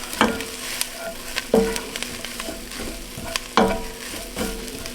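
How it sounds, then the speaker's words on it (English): A spoon stirs soup ingredients in a pot for creamy white lasagna soup, with repeated scraping strokes about every second over a soft continuous sizzle, close and clear. "And then we're going to give it a good mix. Get mixed up really well."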